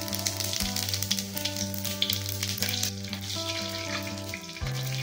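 Dried red chillies and cumin seeds sizzling in hot oil for a singhi fish curry, a steady close frying hiss that runs on without a break, with no talk.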